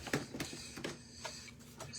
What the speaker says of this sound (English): Blow dryer, I'm going to dry this.